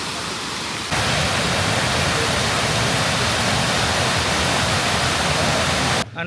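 Webster Falls in Hamilton pours from a great height, giving a loud, steady broadband roar of falling water that fills nearly the whole clip after a quieter opening second.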